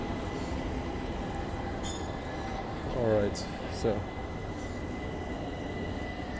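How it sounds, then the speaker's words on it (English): Trains rumble past near Topkapı Palace in Istanbul, a steady loud rail roar with a sharp wheel squeal around the middle, while a person talks over the noise. "Yeah, it's so loud with the trains."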